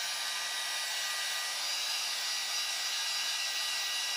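Heat gun warming heat-shrink tubing on a kite tube, a steady loud airy roar holding without a break throughout.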